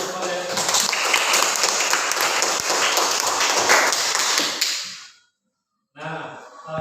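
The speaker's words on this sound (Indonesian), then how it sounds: "Tepuk tangan dulu, Valen." A classroom of students claps hands together in a dense, steady burst for about five seconds, then stops abruptly; after a brief silence a voice begins talking.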